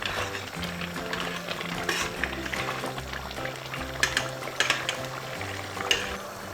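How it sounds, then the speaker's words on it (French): Chicken pastilla sauce in a pan being stirred as it thickens gives a soft bubbling simmer with intermittent scraping and stirring strokes, fairly quiet and close. "mélanger la sauce qui reste jusqu'à ce que le mélange épaississe"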